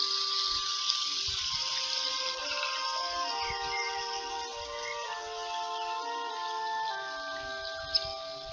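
A garden waterfall in the video game The Book of Unwritten Tales 2 gives a continuous soft rush of falling water, heard under steady tonal background music and a few faint clicks.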